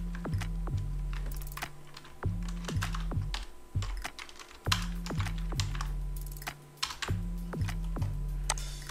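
Computer keyboard keys clatter in repeated quick bursts while text is entered for a Durga Puja banner design in Photoshop, fairly close and clear over a low electrical hum.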